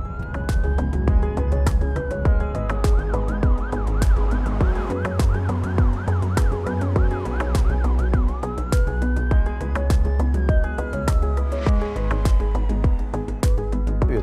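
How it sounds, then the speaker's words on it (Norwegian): An emergency vehicle siren wails up and down, then switches to a rapid yelping pattern before returning to the wail, loud and near over steady road noise from behind a moving car. "Hvis du ser speilen din nå, så får du en utrykning bak deg."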